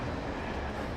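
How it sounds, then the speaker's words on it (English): A train rolls past in Alan Wake Remastered, a steady, dense low rumble with faint rhythmic clatter filling the whole stretch at even loudness, with no voices. "Oh, we can hear the train."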